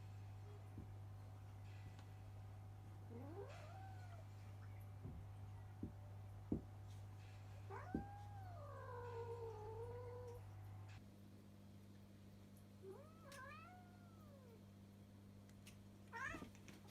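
A pet cat meows several times, quiet and somewhat distant, each call rising and falling, with pauses between them over a steady low hum and an occasional soft click.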